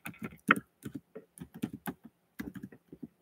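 Typing on a computer keyboard during a live Q&A session: quick bursts of close, crisp key clicks in uneven clusters with brief pauses, no talking over them.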